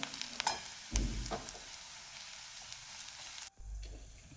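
Onion and garlic frying in oil in a kadhai while being stirred continuously, a soft close sizzle with occasional scrapes and knocks, ending in a brief pause and thump.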